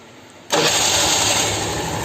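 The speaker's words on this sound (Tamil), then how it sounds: "வண்டி ஆஃப் பண்ணுங்க, திரும்ப ஸ்டார்ட் பண்ணுங்க" A motorcycle engine fires up during an ignition test, starting abruptly and settling into a loud, steady idle close by.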